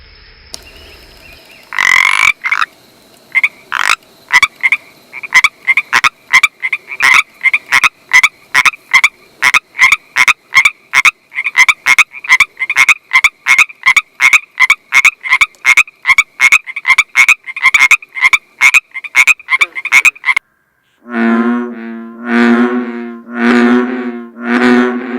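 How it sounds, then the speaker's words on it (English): Frogs and toads croak, a long run of evenly spaced, sharp calls repeating for about twenty seconds, then a deep bullfrog answers with a few low, resonant croaks; loud and close, no voices. "Frogs and toads are amphibians, and whoa, do they make a lot of ruckus with their songs."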